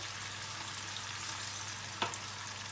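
Tomato paste and grated tomatoes frying in a pan while Izmir köfte is being made, a steady close sizzle throughout with a single brief clatter near the end.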